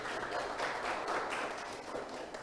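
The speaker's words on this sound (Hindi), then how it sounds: "मैडम के लिए ताली बजा के स्वागत करो" An audience applauds to welcome a guest, with dense, steady clapping from many hands, moderately loud and continuous throughout.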